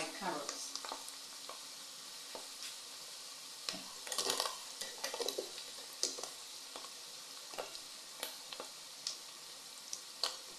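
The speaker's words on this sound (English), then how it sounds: "time for me to put my carrots" Carrots go into a pan of garlic and onions, setting off a steady close sizzle and hiss with scattered scraping stirs and light clinks of a utensil against the pan, and no voice over it.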